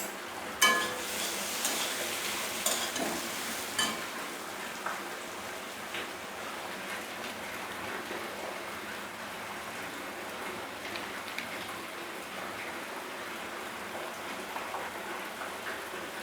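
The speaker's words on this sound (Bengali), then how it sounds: "আমি আর 3 মিনিট ধরে একটু ভাজা ভাজা করব" Lentil dal with cumin powder fries in a pan, a continuous crackling sizzle like light rain, with a few sharp utensil taps early on and no voices.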